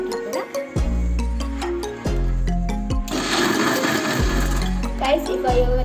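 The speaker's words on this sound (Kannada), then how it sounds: "ನಾನು ಇವಾಗ ನಾನು ಸ್ವಲ್ಪ ವಾಟರ್ ಹಾಕ್ಕೊಳ್ತೀನಿ ಅಂತ, ಮತ್ತು ಅದನ್ನು ಗ್ರೈಂಡ್ ಮಾಡ್ತೀನಿ" A mixer grinder running loud and close as it grinds fish curry masala with water, a whirring motor with pitch drops as it stops and restarts, then a harsher grinding burst.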